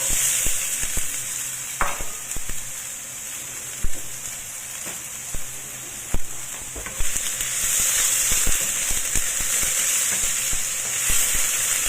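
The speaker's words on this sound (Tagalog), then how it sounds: "I-fry lang natin yan hanggang sa maging brown yung kulay ng ating onion" Onions sizzle and fry steadily in hot avocado oil, with occasional stirring knocks and scrapes in the pan throughout, close and continuous, no talking.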